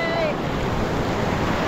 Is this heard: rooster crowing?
no